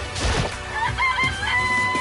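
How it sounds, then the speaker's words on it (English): A chicken in the video game Danganronpa gives a loud, close burst of clucking and crowing-like squawks that lasts about two seconds, with some clatter mixed in and no talking. "It's a chicken. It's really alive"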